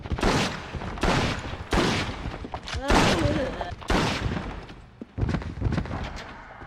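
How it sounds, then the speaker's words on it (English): Five loud, sharp .38 Special revolver shots fired at a zombie in Resident Evil Outbreak, spaced roughly a second apart, each with a short echoing tail. "So I'm gonna go ahead and test this 38 Special on a zombie."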